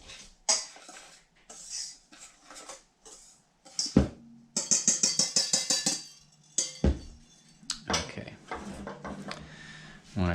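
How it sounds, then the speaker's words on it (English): A whisk clinks and taps against a bowl while mixing sugar, flour, baking soda and salt, with a fast rhythmic burst of strokes in the middle and scattered clatter around it. "we're just going to whisk this together to combine it"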